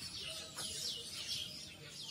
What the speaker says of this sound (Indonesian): Tuh burungnya berkicau-kicau.